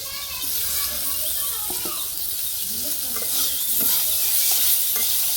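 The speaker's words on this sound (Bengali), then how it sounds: "তো দুইটা একসাথে ভাজি করে নিয়ে তারপরে আর কি জল দিয়ে দিব।" Koi fish and mango chunks stir-fry in a pan, a bright steady sizzle with repeated scraping strokes of a spatula, while children's voices and birds sound faintly in the background.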